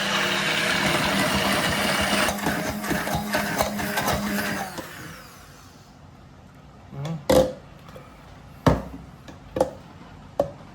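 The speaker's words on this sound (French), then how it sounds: "La troisième méthode, c'est mixeur plongeur." An immersion blender whirs as it mixes homemade mayonnaise from egg yolks, a steady motor buzz for about five seconds before stopping, followed by a few sharp knocks and clatters.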